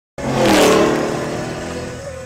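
A nitro-fuelled 600-horsepower car engine barks into a loud rev, then holds a rough, throaty roar that slowly eases off, heard close up with no talking.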